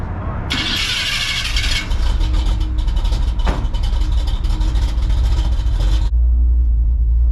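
A 1984 Chevy Silverado with a 350 engine fires up from cold, cranking briefly before catching into a loud, steady rumble that continues close by.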